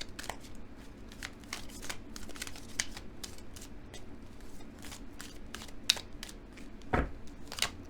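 Tarot cards are shuffled by hand, close up: a run of crisp riffling rustles and flicks in uneven bursts, with a sharper snap near the end.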